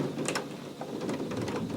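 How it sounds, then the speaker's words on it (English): Steady rain falling, a dense, even patter with soft scattered drops throughout, moderately close and continuous with no voices. "It started raining."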